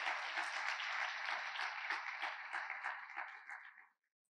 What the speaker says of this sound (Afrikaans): Kan ons net hande klap gee vir mekaar vandag wat saam in die kerk is hierso